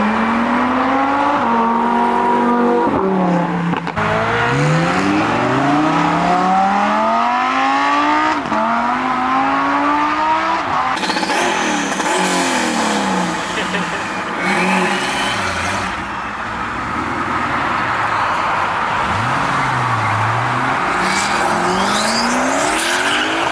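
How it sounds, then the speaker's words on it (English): A twin-turbo Lamborghini Aventador SVJ at an exotic car show revs hard and accelerates repeatedly, its loud engine note rising and falling through sweeping pitch climbs, with tire squeal and skidding mixed in throughout. "Damn, that turbo sounds crazy on that car."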